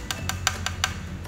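Fingers tapping on the carbon frame of a Hongfu FM008 road bike, five or six sharp hollow knocks in an even rhythm, close and moderately loud over a low background hum.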